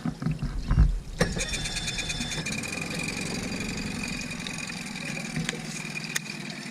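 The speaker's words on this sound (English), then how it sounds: "So now we're going to turn the big motor off, and we're going to start the little motor." A Mercury 15 Pro kicker outboard motor starts and settles into a steady idle on a boat in neutral, with a knocking, throbbing engine note that stays constant and fairly close.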